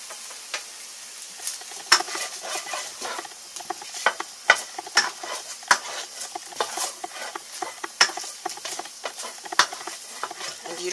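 A tablespoon of butter melts in a hot pan for chicken risotto, giving a soft, steady sizzle broken by sharp pops and crackles, with light scraping and stirring against the pan throughout and no voices.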